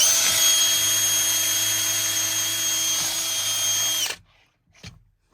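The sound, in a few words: drill boring a hole in a Chieftain tank's bottom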